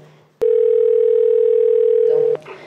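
A telephone dial tone plays while a call is placed. It is a loud, steady single tone that holds for about two seconds and then cuts off, followed by faint noise.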